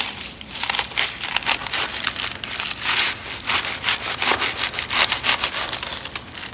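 An Aloe brevifolia succulent in a big pot arrangement is cut, with rapid, scratchy snipping and rustling of dry leaves close up, steady and busy for several seconds, no talk.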